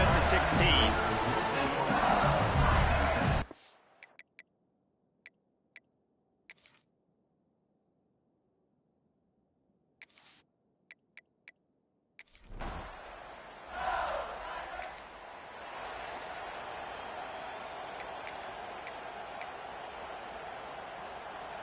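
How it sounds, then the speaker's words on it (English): Roaring stadium crowd at an LSU vs Georgia college football game, a loud sustained wash of cheering and noise at the start, then near silence, then the crowd swelling back in loudly with a commentator talking over it. "This crowd ready to make its presence known."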